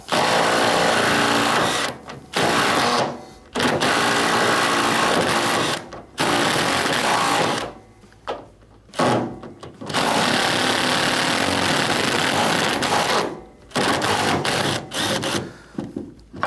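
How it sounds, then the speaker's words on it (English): A power drill whirs loudly in long bursts, removing a washing machine's shipping bolt, stopping and restarting several times with brief silent gaps between runs. "I'm going to use my drill. Let's take the first one out."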